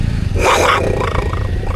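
A handheld jaguar noisemaker whistle lets out a short, raspy growl imitating a big cat's roar, rising and fading within half a second over a low background rumble.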